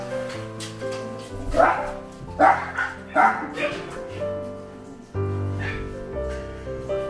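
Small Teddy poodle dogs at a stray dog rescue shelter in China bark in a cluster of sharp yaps and whimpers, close by, with people talking and background noise around them.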